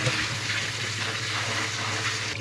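Kitchen sink sprayer rinsing wild fiddleheads in a strainer with cold water, a steady, close hiss of spraying water that runs continuously and stops abruptly near the end.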